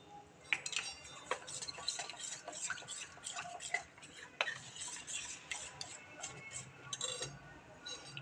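A spoon stirs a kher drink mixture in a pot, steady close scraping and light metallic clinks repeating over several seconds.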